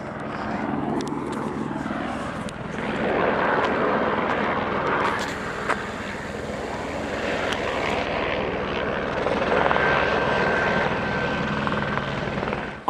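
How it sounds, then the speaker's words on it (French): A helicopter drones overhead with a steady rotor thrum, loud and continuous, its pitch shifting slightly as it passes nearby. "D'ailleurs, l'hélico revient."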